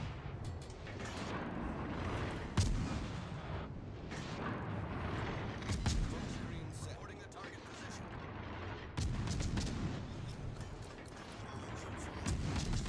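Warship guns firing in the console naval game World of Warships Legends, heard as a continuous rumble of distant booming salvos with sharper shots at intervals, all under moderate background noise.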